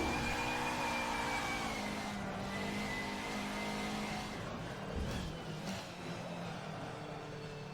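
Race car engine in a racing video game, revving high and steady with a whining harmonic tone that dips and recovers as the throttle is lifted and reapplied, close and continuous, with a brief tire squeal.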